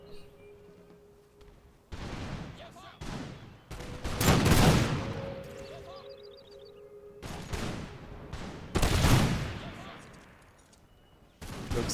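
Musket volleys in a Prussian-era war strategy game, with bursts of crackling massed gunfire that rise and fade over several seconds, amid a quieter ambient battlefield bed.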